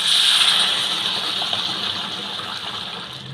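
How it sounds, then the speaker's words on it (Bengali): Hot water poured into a pan of jackfruit curry cooked with goat fat, a steady gushing pour running loud and close for a few seconds before easing slightly. "অল্প করে এবার গরম জল দিয়ে দেবো।"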